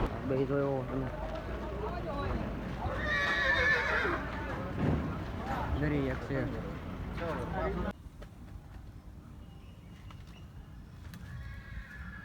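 Horses neigh and whinny amid hoof clops and a busy crowd with people talking at a horse fair in Amreli, then the scene drops to a quieter murmur.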